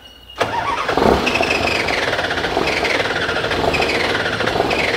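An old Mitsubishi diesel engine in abandoned Komatsu heavy equipment cranks and fires up, then settles into a loud, rough, steady rumble close by.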